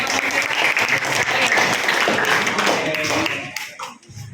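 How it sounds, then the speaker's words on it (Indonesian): Classroom audience clapping hands during a lesson, a dense, steady burst of applause from many people that thins out and fades near the end. "Oke, tepuk tangan dong."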